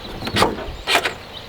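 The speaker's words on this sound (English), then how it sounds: "if I don't open that door between the first ch and the second ch, those are the sounds of the release moving" Door latch release on a Ford GT Carbon Series supercar: two short, close mechanical clicks about half a second apart, crisp and isolated with nothing else around them.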